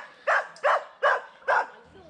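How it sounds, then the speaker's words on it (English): Guard dogs bark four times in an even rhythm, each bark loud and fairly close, with short quiet gaps between them and a faint rustle at the end, outdoors on a tree-viewing trip at Loch Linnhe, Scotland. "Good guard dogs doing their job."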